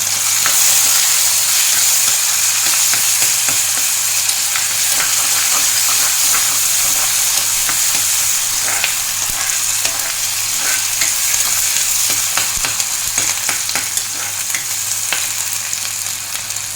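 Banana stem stir-fries with green chilli, curry leaves and tomato in a hot pan, giving a loud, steady sizzle and crackle with stirring scrapes throughout and no voices.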